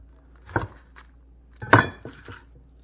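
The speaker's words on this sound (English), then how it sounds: "we want to go ahead and grab our onion. I'm going to go ahead and chop that off" A knife chops a garden-fresh onion on a board, two distinct close thuds with a clattering knock between, set against a quiet kitchen background.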